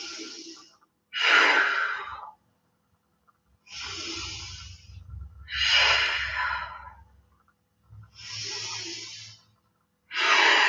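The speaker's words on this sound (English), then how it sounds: "Another 3 deep breaths." Deep, slow yoga breaths during a flowing sequence, long hissing inhales and exhales repeating in a steady rhythm, close and clear with faint low rustle between them.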